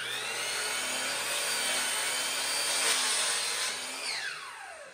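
A power saw whines steadily as it cuts a wooden stair riser, a loud continuous high buzz that eases off near the end as the cut finishes.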